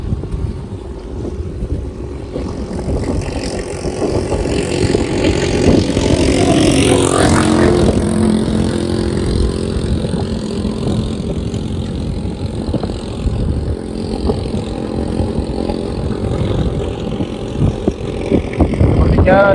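A boat motor runs steadily at Subi harbor, a continuous loud engine drone mixed with wind buffeting the microphone and water noise, with a brief swell of louder mechanical noise midway.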